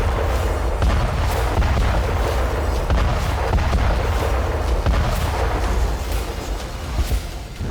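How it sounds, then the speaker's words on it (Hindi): A FAB-500 unguided bomb detonates in a strike on a command post, a loud, continuous heavy roar and rumble of blast noise with scattered cracking bursts throughout, no voices. "हमले के लिए फैब 500 अनगाइडेड बम का इस्तेमाल किया गया। एक ही प्रहार से 10 बमों जैसा विस्फोट।"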